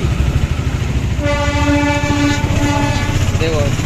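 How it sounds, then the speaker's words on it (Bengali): A train rolling overhead across a tunnel while people pass beneath, with a loud rumbling rattle and a long sustained horn blast close by, voices faintly mixed in. "উপর দিয়ে ট্রেন আর আমরা নিচ দিয়ে"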